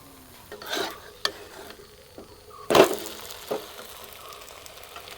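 Oil goes onto a bun dosa in a hot pan, setting off short bursts of sizzling and crackle mixed with light scraping and stirring, close and moderately loud, with no talking.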